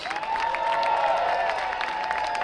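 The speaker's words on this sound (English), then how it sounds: "Actually, give them a loud round of applause." Applause from a Tea Party rally crowd in New York at a Tax Day kickoff, steady sustained clapping with some cheering, moderately loud and unbroken, no talking over it.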